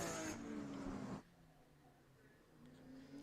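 Lead race cars flash past on the main straight at Laguna Seca during a 6.5-hour endurance race, a loud close engine roar for the first second that cuts off abruptly, leaving faint distant engine drone that builds slightly near the end.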